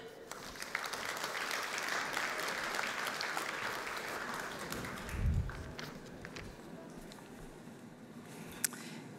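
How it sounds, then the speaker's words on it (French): An audience at a conference session on art and culture in urban neighbourhoods claps for the speakers, a moderate, fairly distant patter of applause that gradually thins out, with a brief low thump midway and faint murmur. "vous pouvez les applaudir"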